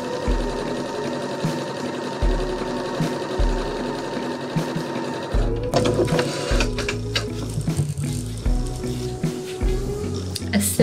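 A sewing machine stitching fabric rows together for a beginner's simple quilt, running in short rhythmic bursts at first, then stitching faster in a denser, steadier run, close and fairly loud.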